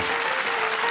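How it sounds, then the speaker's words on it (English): Dense, steady applause from a television game show studio audience, loud and continuous throughout. "Give them a round of applause"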